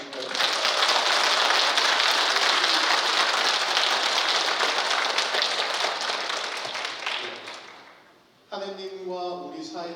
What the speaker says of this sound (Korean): 다시 한번 우리 좋은 강의 해주신 김종식 씨를 위해서 박수 한번 칠까요?